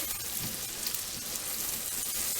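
A pot of borscht bubbling and hissing at a steady boil on a stove, a soft continuous simmering noise close by with no talking.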